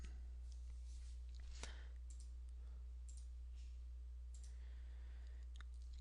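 Mouse clicks on a computer, a few sharp isolated clicks spaced across a quiet stretch with low background hum, no talking.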